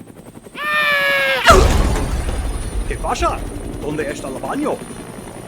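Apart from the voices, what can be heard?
helicopter in video game Dead Rising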